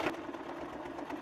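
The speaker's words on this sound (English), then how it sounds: "I'm going to sew that down" A home sewing machine stitches a fabric seam on a pillowcase dress, a steady close mechanical whir running evenly through the short moment with no talking.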